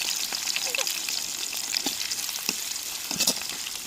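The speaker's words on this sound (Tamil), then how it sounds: "வெங்காயம் வெள்ளப்பூடும் கொஞ்சம் நேரம் வதங்கி வரட்டும்" Onion and garlic sauté in hot oil with a soft, crackling sizzle, close but fairly quiet, dotted with light pops and a few faint stirring taps; no one speaks.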